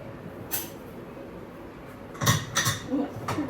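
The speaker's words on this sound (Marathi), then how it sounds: "माझ्याने होतच नाहीये कुकर बंद करायला." A pressure cooker lid being forced shut by hand gives a few sharp metallic clanks and scrapes, close by, spaced irregularly with a busier cluster near the end.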